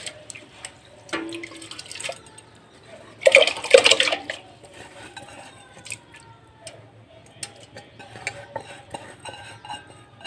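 Rice tipped into hot water in a cooking pot for vegetarian mushroom khichuri, a brief rush of pouring and splashing followed by faint clinks and stirring, heard close and quiet.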